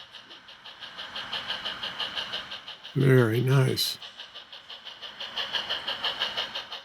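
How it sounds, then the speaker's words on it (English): A large HO-scale model steam locomotive runs along a layout with a rhythmic, pulsing chuff under a faint hiss of running gear, and a person briefly speaks partway through. "here comes a big steam engine"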